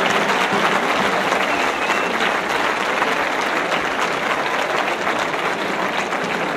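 A crowd in a town square at a giants festival applauds loudly and steadily, with an even roar of clapping that carries on for several seconds.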